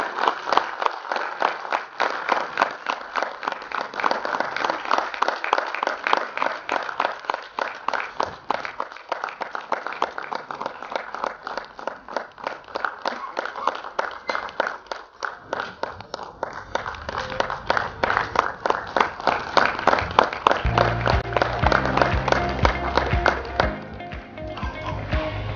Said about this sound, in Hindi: एक बार जोरदार तालियों से उनका हम लोग स्वागत करें।